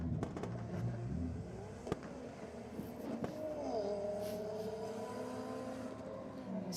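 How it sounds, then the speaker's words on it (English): Honda CR-V with a turbocharged K-series engine racing an Audi RS3 at a drag meet, engine noise rising and shifting through gears at moderate distance over a steady roar of background noise. "CRV, which definitely sounds like a Turbo K series, taking on the RS3."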